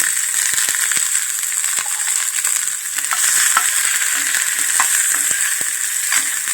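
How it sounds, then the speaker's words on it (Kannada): Chopped onion sizzles steadily in hot oil with cumin seeds and curry leaves, a loud continuous crackle broken by frequent sharp pops and occasional spoon scrapes against the pan, with no voices. "ಈಗ ಕಟ್ ಮಾಡಿ ಇಟ್ಟಿರೋಂಥ ಈರುಳ್ಳಿ ಸೇರಿಸ್ಕೊಳ್ಳೋಣ ಈರುಳ್ಳಿ ಹಾಕ್ತಾ ಇದ್ದೀನಿ"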